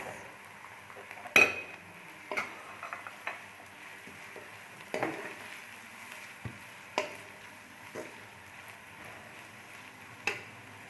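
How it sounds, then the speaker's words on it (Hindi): Onion goes into a pan of frying minced meat, followed by a quiet, soft sizzle punctuated by several distinct clinks and scrapes of a spoon against the pan, close up and without talking. "तो अब हम इसमें ऐड करेंगे प्याज।"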